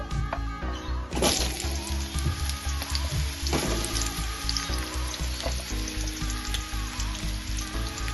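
Sweet potato pieces frying in hot oil tempered with mustard seeds, a dense close crackle and spatter with a few sharp bursts as pieces drop in, and no talking.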